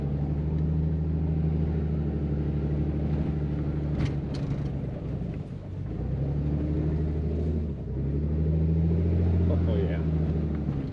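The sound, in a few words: truck driving off-road in four-wheel drive on a snowy trail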